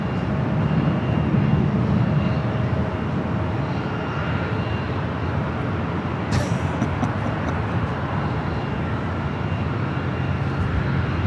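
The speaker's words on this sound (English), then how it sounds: "That was Delta Airlines Flight 2120 heading to Vegas, a 737-800." Delta Airlines Boeing 737-800 jet airliner passing near LAX on a July 4th evening, a steady broadband engine roar holding loud for the whole stretch with a faint tick partway through.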